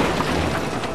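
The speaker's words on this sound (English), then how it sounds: "Try shooting those barrels. I think the explosion will knock over that tower." Barrel explosion in the Megamind video game, a short, dense burst of broadband noise with a low boom, loud and alone.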